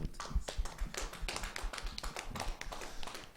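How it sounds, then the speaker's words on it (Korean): A church congregation gives a welcoming round of applause during a Sunday worship service, a steady dense patter of many hands clapping close by for a few seconds, with no talking over it. "우리 문용순 권사님 우리 환영의 박수."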